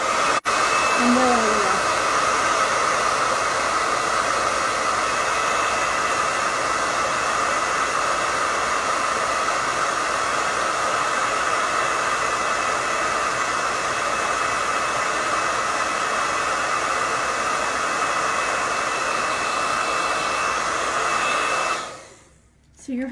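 A hair dryer blowing on painted eyes on a rustic sled, a loud steady whirring hiss that runs unbroken for over twenty seconds before switching off, with a brief spoken phrase near the start.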